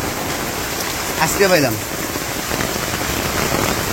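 Very heavy monsoon rain pours down in rural Bangladesh as a dense, steady hiss that fills the whole scene, with a brief spoken phrase rising over it midway.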